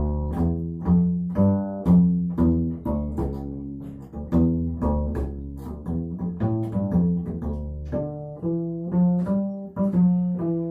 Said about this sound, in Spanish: Y para hacerlo, hago pizzicato usando la yema de mis dedos.